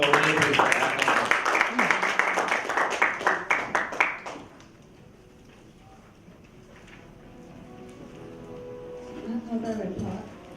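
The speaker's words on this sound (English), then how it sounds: "could we have a very huge round of applause for Renee, please?" Applause for Renee at a club meeting: rhythmic clapping from a small audience lasting about four seconds, then quiet room ambience with faint murmurs and a voice at the end.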